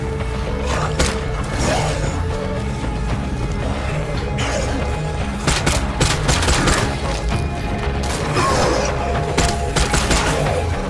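Repeated loud bursts of gunfire and crashing hits from the video game State of Decay 2 come in clusters across the stretch over a steady din of game sound.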